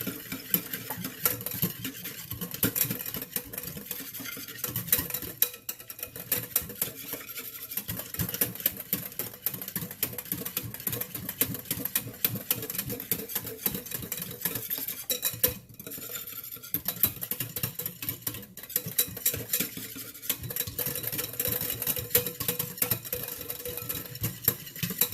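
Ube-cheese pandesal dough mixture is stirred in a bowl, a continuous rhythmic scraping and clinking of utensil against bowl with a faint mechanical hum, no speech.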